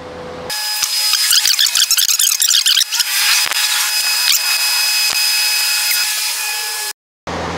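A power tool whirs steadily for several seconds while loosening the burner nuts on a bakery deck oven, with a bright mechanical whine and brief rattling clicks, then stops abruptly near the end.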